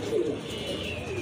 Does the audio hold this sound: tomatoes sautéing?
no